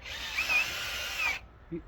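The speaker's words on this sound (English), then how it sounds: "Drill your hole." A power drill bores a hole into timber while a washing line is put up, a steady high whine for over a second with slight pitch shifts as it bites, then cutting off, followed by a faint knock.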